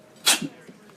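One sharp, close sneeze bursts out abruptly and fades quickly into a quiet room.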